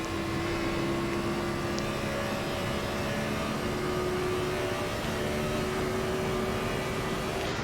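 Gen4 Cup stock car engine in a racing video game, held at a steady high drone with a sustained tonal whine that edges up slightly in pitch, continuous and close with no talking.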